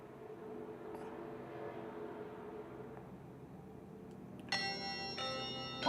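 A school chime rings in the horror video game Deadly Premonition Origins, a faint bright bell tone entering over a quiet low background hum near the end.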